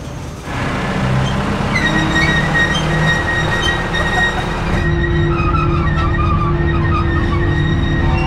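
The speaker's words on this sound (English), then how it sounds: "The train ride is kind of enjoyable. It's slow moving." Slow-moving tourist train rolling through a pineapple plantation on Oahu, Hawaii, giving a steady continuous rumble with squealing high tones and clatter throughout, fairly loud and close, with no talking.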